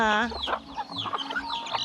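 Chickens cluck in short, close bursts alongside ducks on a farmyard, a quick run of choppy fowl calls filling the brief moment.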